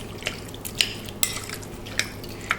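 Spoon scrapes and clinks against a pot while stirring Haitian-style shrimp stew seasoned with black pepper, with about five sharp metallic taps spaced through a quiet kitchen background.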